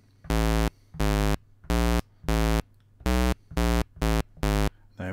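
Square-wave synthesizer notes from the VCV Rack software modular synth, triggered from a Launchpad controller: eight loud, evenly spaced buzzy tones in a steady rhythm, with brief gaps of quiet between them and no talking.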